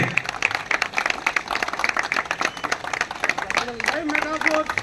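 Audience applause at a Telugu crypto coin birthday celebration, dense steady clapping with crowd noise and voices over it, a sung or called line rising near the end.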